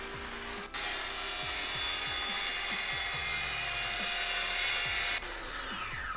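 Bolts being removed from a tank in Tank Mechanic Simulator, heard as a steady, loud mechanical whirring and grinding held for about four and a half seconds, with faint clicks and rattles before and after it.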